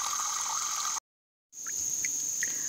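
Water trickling and dripping through a homemade water filter, a faint continuous gurgle with a few distinct drips, broken by a brief gap of silence.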